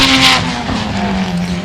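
A Reed Speed Fortunato race car driven by Todd Reed powers through a circuit's first corner, its engine droning loudly and steadily with a brief tyre squeal as it holds the bend.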